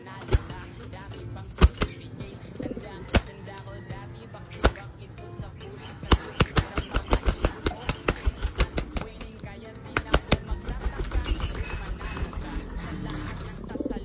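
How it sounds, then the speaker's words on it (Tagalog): Pigeons flap their wings in sharp, close bursts as they take off, with quick runs of rapid wing claps in the middle and near the end. Voices talk underneath. "Excited sila lumipad mga kalapatids."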